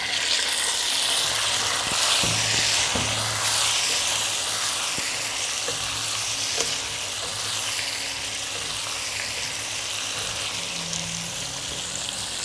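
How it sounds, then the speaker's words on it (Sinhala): Boiled cassava frying in hot oil with a tempering of dried chillies, giving a steady close sizzle and hiss throughout with a few soft stirring knocks, no voices. "මේක තෙල් එකේ චුට්ටක් උඩ බැදෙන්න මේ විදිහට තියලා තියමු"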